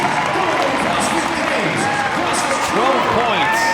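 An arena audience at a CrossFit regional team competition claps and cheers loudly and continuously, a thick wash of applause with an announcer's voice and crowd shouts mixed in.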